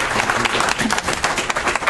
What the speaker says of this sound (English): Let's give the round another applause.